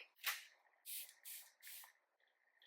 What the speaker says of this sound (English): let's spray the Dewy First Spray Serum on half of my face first